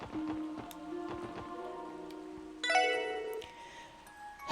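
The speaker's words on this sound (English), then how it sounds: "The sound of falling rain always gets me feeling depressed." Rain falls steadily on surfaces in a video game, a soft continuous patter at moderate distance, joined partway through by bright tonal game music or chime tones layered over it.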